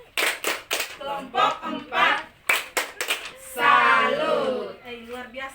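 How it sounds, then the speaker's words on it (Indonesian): A group in a training session gives a 'tepuk salut' cheer clap for group 4, with bursts of rhythmic hand claps in short patterned sets, loud and close, interleaved with chanted voices. "Sekarang kita tepuk salut untuk kelompok 4."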